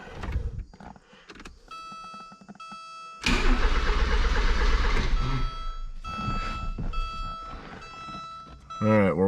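A 1984 Porsche 944, abandoned and non-running, cranks loudly for about three seconds in a rough, churning burst, then quieter mechanical sounds follow, with voices and electronic tones around it.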